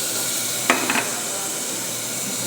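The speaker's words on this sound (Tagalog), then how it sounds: "gisa ng bawang, sibuyas," Garlic, onion and tomato sautéing in a pan give off a steady, close sizzle and hiss, broken briefly by a couple of sharp clinks of a utensil partway through.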